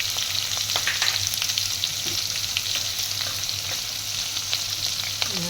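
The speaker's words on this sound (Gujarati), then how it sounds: "હવે આની અંદર આપણે નાખી દઈશું આપણું કટ કરેલું લસણ" Chopped garlic and chilies fry in hot oil with asafoetida, giving a dense, continuous, bright sizzle with small crackles, close and steady, without any talking.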